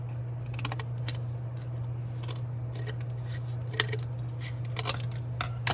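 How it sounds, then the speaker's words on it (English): Scissors snipping pieces of cardboard for an art lesson, a string of sharp, close crisp cuts in irregular bursts over a steady low hum, with no talking. "I'm going to cut a few pieces of cardboard"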